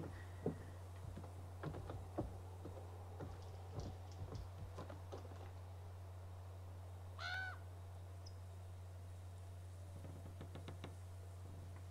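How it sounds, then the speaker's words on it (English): A crow caws briefly in the horror video game The Quarry, a faint, distant call heard once amid scattered knocks and clicks over a steady low hum. "You need to follow the crow noises."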